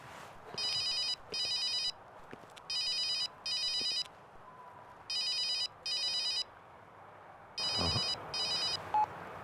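A telephone rings in repeated double bursts, four rings in all, with no one answering; quiet room tone fills the pauses between rings.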